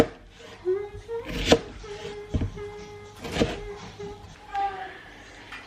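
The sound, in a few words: chopping onions with a knife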